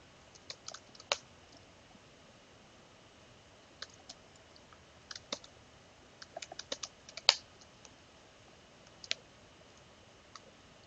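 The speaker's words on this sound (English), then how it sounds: "I'm typing stuff, but the program never reads it." Typing on a computer keyboard in a quiet room, with scattered light key clicks in short irregular bursts and pauses, faint and close, with no talk.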